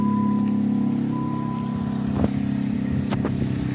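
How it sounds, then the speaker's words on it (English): A Dodge Caliber engine idles steadily after starting, a close, continuous low hum with a faint whine and a couple of brief clicks or knocks partway through. "I got it to start now, right?"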